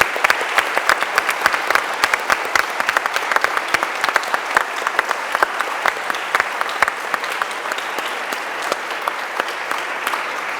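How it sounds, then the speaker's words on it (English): A lecture-hall audience gives sustained applause to the behind-the-scenes crew at a talk on consciousness, dense, even clapping with crisp individual claps standing out, loud and continuous for the whole stretch. "just a big round of applause for all the people working behind the scenes as well"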